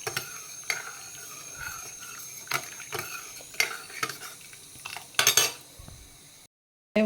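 Boiled chana dal stirred after pressure cooking, with soft repeated clinks and scrapes of a spoon against the pot over a quiet background, a brief louder clatter near the end, close up, no talking.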